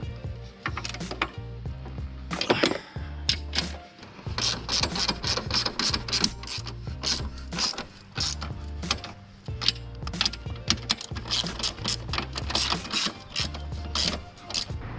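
Mechanical clicking and ratcheting while chassis strut brace bolts are tightened on a Lexus RC F, a fast run of close, sharp metallic clicks that pause briefly and resume, loud and without talk.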